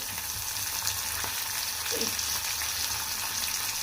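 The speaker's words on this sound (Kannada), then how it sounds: "ಇದು ಫ್ರೈ ಆಯಿತು ಸ್ವಲ್ಪ ಫ್ರೈ ಆಗಬೇಕು ಈರುಳ್ಳಿ ಫ್ರೈ ಆದಮೇಲೆ ಈಗ ಟೊಮೊಟೊ ಹಾಕ್ತೀನಿ" Onions fry in a pan with a steady, close hiss of sizzling oil that holds at an even level throughout, broken only by a faint stir or two.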